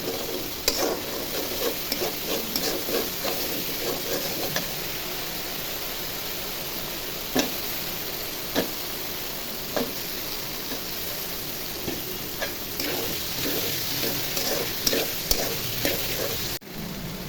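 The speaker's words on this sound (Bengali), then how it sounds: "মশলা ভাজা ভাজা হয়ে গেছে, এখন আলু দিয়ে কষিয়ে নিব।" Cut potatoes are stir-fried in a pan of spiced oil, cooking for a fish curry. A soft, steady sizzle runs throughout, and a spatula scrapes and knocks against the pan now and then.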